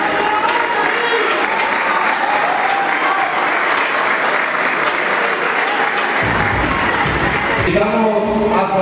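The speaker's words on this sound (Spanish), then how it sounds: "lo recibimos con un fuerte aplauso." A crowd at a club awards celebration for third-division football champions claps loudly and steadily, a sustained wash of applause with some cheering toward the end.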